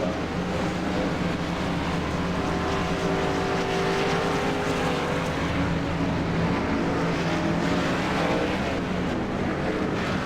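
Race cars lapping a short oval at KMA Racing on a Monday night, engines roaring steadily as a pack, loud and continuous with rising and falling pitch as cars pass.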